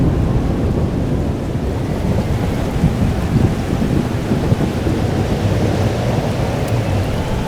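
A thunderstorm in the video game Life is Strange: Double Exposure: loud, dense rain hissing steadily with low rolling thunder rumbling underneath throughout, no voices.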